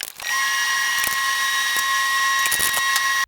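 A hand ratchet clicking rapidly on a 13 mm heat shield bolt of a 2002-2007 Saturn Vue 2.2L, a close, continuous fast ratcheting with a few louder clacks, no talk.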